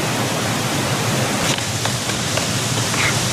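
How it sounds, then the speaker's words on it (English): A jungle waterfall in the film Rambo: First Blood Part II gives a steady, dense rushing roar that fills the whole clip evenly, with no voices. "You hear the waterfall in the background."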